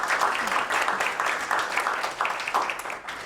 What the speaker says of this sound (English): All right, round of applause for them.